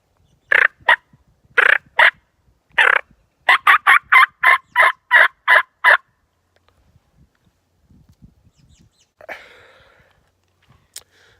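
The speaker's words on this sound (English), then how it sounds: "I'm gonna purr and putt some more and see if I can get a response." Wild turkey calls made while scouting in the woods: a run of about a dozen sharp, evenly spaced putts, a pause of near silence, then a soft purr and a faint distant note.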